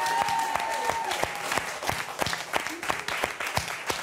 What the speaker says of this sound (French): On peut continuer les applaudissements